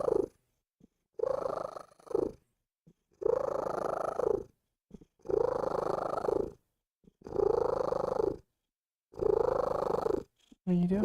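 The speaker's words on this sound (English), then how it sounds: "Want to hear one of the loudest cats in the world?" A pet cat named Trill purrs very loudly and close, in long rumbling bursts repeated about every two seconds with short silent breaths between them.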